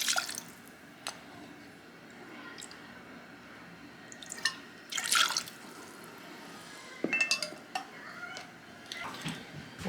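Water and dry French vermouth poured into a saucepan on a stove, with drips, liquid splashes and clinks of pots and utensils in short bursts through a quiet kitchen.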